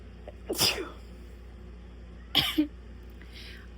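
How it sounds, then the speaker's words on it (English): Two sharp sneezes from a young woman indoors, spaced about two seconds apart over a quiet room hum, each one a short close burst. "I have to sneeze again."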